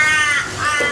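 A crow caws in a drawn-out, harsh series of calls, loud and near, with a few rising and falling cries and no talk over it.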